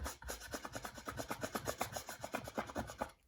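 A brush scrubs Lily oil stick paint onto a wooden box in fast, regular back-and-forth strokes, about six per second, each a close, dry, raspy rub.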